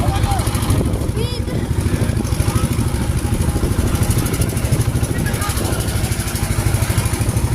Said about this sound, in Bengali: ওই যে ছোট একটা স্পিড বোট